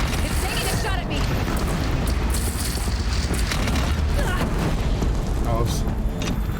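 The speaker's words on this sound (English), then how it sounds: "Kill the Bellowbacks, they might explode." Machine explosions and gunfire in Horizon Zero Dawn as a Bellowback is destroyed, a dense, continuous roar of booms and blasts filling the whole stretch at steady loudness.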